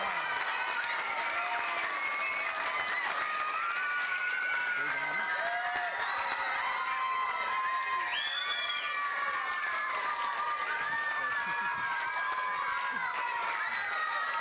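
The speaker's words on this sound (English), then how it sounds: "just give a great round of applause for Burnt Oak Junior School." School audience at a junior school talent show claps and cheers continuously, with children shouting and whooping over steady applause, loud and crowded throughout.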